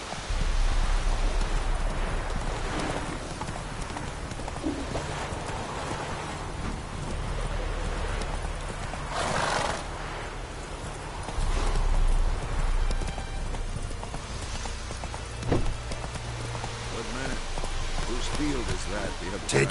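Roach the horse gallops in The Witcher 3 video game, a steady run of clip-clopping hoofbeats that carries on for the whole stretch over a constant background bed, with some brief louder swells.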